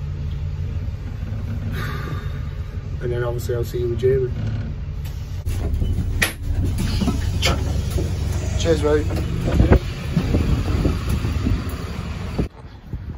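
Riding a city bus through windy, stormy weather on a half-hour trip to Oldham, the engine rumbling low and constant throughout while people talk nearby, with a brief rattle and a shift in the noise partway through.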